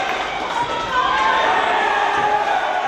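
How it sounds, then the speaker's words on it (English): Arena crowd noise at a Reality of Wrestling TV event, a steady dense roar of many voices that swells slightly partway through and stays loud throughout, with a commentator talking over it. "Listening to the crowd here, letting them dictate the fight."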